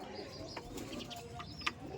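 Flying Madras pigeons at a home loft coo softly with a few light chirps, faint and somewhat distant over a low steady background hum.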